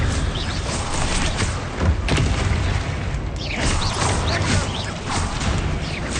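Booming blasts of the Confringo fire spell in Hogwarts Legacy, several heavy thuds and crashes over a dense, noisy battle din, with a loud burst near the middle.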